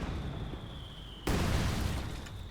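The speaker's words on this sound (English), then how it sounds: "Got heavy mortar fire going in from both sides on the village now" Heavy mortar fire lands in a Company of Heroes 2 battle around a village, a sudden loud boom breaking over a rumbling battlefield bed and then fading.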